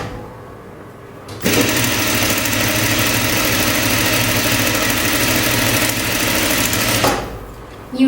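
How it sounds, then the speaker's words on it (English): An electric sewing machine stitching a jumpsuit starts abruptly, runs in a loud, steady mechanical whir with a rapid needle chatter for about six seconds, then stops. "and then start sewing"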